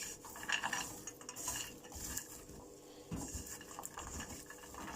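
Roasted almonds and walnuts stirred in a pan to keep them from burning, giving quiet, busy clinks and rattles of nuts and utensil against metal, close but low in level, with no talking.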